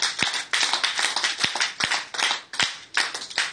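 A church congregation at a Bible study and prayer meeting applauds, with loud, uneven bursts of hand claps close by, swelling and easing in rough waves.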